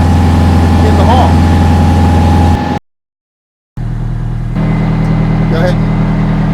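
A truck engine runs steadily, loud and close with a low rumbling drone, cuts out briefly to silence, then resumes idling with a slightly raised tone; a voice talks faintly over it.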